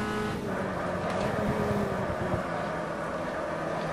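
A simulated VW Gol Quadrado with a 160-horsepower 2.0 AP engine, front-wheel drive and weighing nearly 900 kg, drones steadily under acceleration in the Automobilista racing game, a continuous, fairly loud engine note with no talk.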